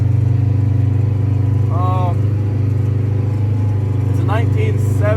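A 1978 Steiger farm tractor's heavy diesel engine idles steadily with a low, throbbing drone, loud and close, while people talk briefly over it.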